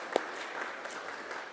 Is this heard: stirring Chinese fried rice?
no